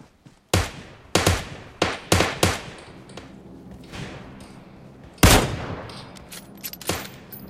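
Rapid gunfire in PUBG arcade sniper mode: a string of sharp, loud shots with a few faint distant pops in between, then one more heavy blast near the end. Each shot trails into a brief echoing tail.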